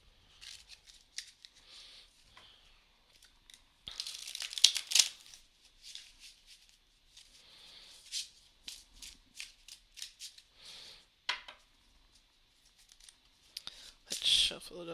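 A tarot deck is shuffled by hand in bursts of crisp riffling, flicking and slapping card noise, near and fairly soft, with quiet pauses and some talk between bursts.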